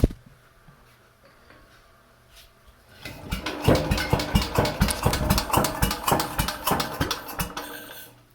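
After a few quiet seconds, a 69-year-old Briggs & Stratton 23A-FB engine suddenly fires up, running in rapid, uneven loud pulses at close range for about five seconds before it dies away.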